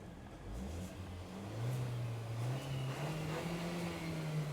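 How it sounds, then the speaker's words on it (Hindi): A 2026 Kia Seltos base model engine idles and then revs upward, its low hum rising steadily in pitch and holding, heard close with no talking. "तो ऐसी आपको इसके इंजन की नोट मिलने वाली है"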